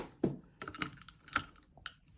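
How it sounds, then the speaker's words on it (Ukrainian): Someone swapping a roll of ordinary clear adhesive tape for book-covering tape, making a handful of close, irregular plastic clicks and light rattles with no talking. "Я міняю скотч, виймаю звичайний прозорий"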